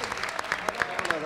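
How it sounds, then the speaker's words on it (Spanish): A studio audience gives a brief round of clapping on a talk show, a few distinct sharp claps close together over a short burst, with speech-like sound mixed in. "un aplauso por favor"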